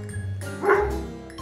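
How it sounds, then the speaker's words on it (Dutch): A dog barks and yips once or twice at close range over a steady low background rumble, with a faint jingle, in a dispute between neighbors over a barking dog. "hoort u nu blaffen?"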